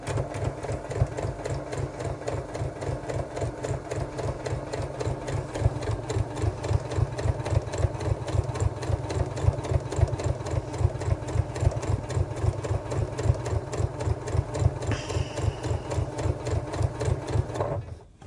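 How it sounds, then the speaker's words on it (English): Close and steady, a sewing machine stitches a tool wallet bag with a fast, even mechanical thumping. It runs continuously for about eighteen seconds before stopping abruptly, with no talking. "I'm just going to sew that into place."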